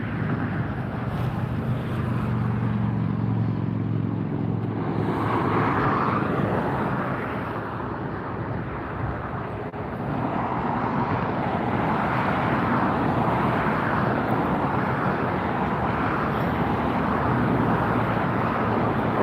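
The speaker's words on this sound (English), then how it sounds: "we have a Boeing 757-200. This is Delta, flight 2004." A Delta Boeing 757-200 airliner arriving at LAX roars steadily overhead, a broad rumbling jet noise that swells and holds over nearly twenty seconds, with wind buffeting the microphone.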